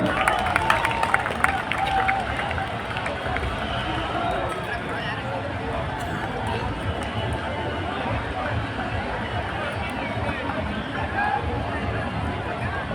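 A crowd at a wrestling dangal at the Ujjain Kartik fair claps loudly in dense, steady applause that holds for the whole stretch, with a voice carrying over it.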